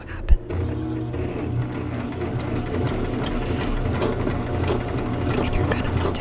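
Sewing machine starting a stitch with the presser foot down: a sharp knock, then a steady mechanical whir and rhythmic needle chatter, close and moderately loud, with soft speech faintly underneath.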